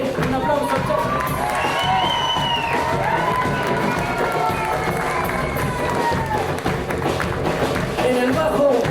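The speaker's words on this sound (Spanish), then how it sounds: "Un aplauso, chao." A crowd at a Mapuche music event in a hall cheers and claps steadily, a dense wash of voices and shouts filling the whole stretch with whoops rising above it.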